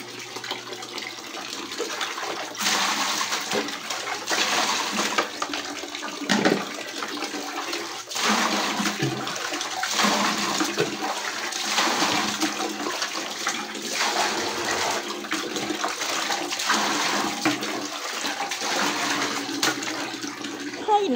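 Water runs steadily in a bathroom after a brownout, a continuous rushing, splashing flow held at a fairly even level throughout, with no pauses and no voices.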